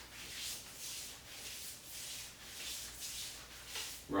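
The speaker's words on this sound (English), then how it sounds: "Rub up and down your arms 3 times" Palms rubbing up and down both arms during a breathwork sequence, a soft, steady swishing friction in repeated strokes, close and quiet with no talk.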